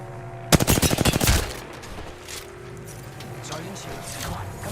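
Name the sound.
gunfire in Apex Legends video game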